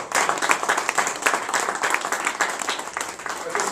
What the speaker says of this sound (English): Let's give them one last round of applause, please.